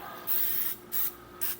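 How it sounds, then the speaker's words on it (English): Cooking spray misted onto bread in three short hissing bursts, close and fairly quiet, with brief pauses between sprays. "I take my cooking spray, my slip and slide juice as it were, and I spray a light coating"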